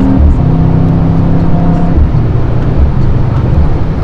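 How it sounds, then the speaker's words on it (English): A 2021 Mercedes-AMG E63 S with automatic Speed Shift transmission downshifts and accelerates. Its engine note stays loud and close throughout, with a pitch drop partway through as the gear changes, and there is no talk. "Speed shift, downshift, very fast and smooth."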